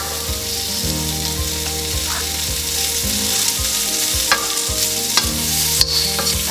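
Onion sizzling in a hot pan for Peruvian lomo saltado, a steady frying hiss broken by regular scraping strokes of a utensil stirring, close and continuous.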